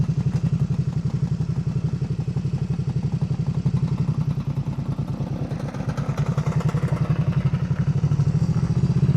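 A classic motorcycle engine thumps steadily and loudly up close, running over gravel with a rapid, even pulse and a faint crunch underneath.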